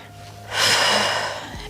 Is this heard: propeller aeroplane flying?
no